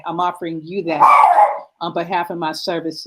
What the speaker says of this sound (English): Forgive me, that's my dog.